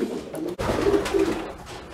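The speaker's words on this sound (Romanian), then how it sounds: "Voi prinde porumbei și voi băga în cuști." Racing pigeons coo softly in a loft, with a couple of low, rolling calls standing out over a steady background rustle, near and moderately loud, no speech.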